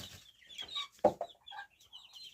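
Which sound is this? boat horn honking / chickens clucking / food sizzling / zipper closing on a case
chickens clucking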